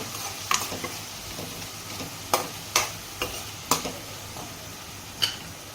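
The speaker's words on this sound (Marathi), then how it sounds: "तर हे टमाटो फ्राय होऊन द्यायचं आहे आपल्याला" Tomatoes for dal fry in a pan with a low, even sizzle, cut by sharp metallic clicks and taps from a spoon against the pan at irregular moments. No voices are heard.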